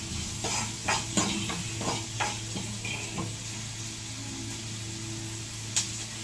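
Onions sautéed with salt in a pan give a constant soft sizzle, with a series of stirring scrapes and taps early on that thin out to a steady fry and one late clink.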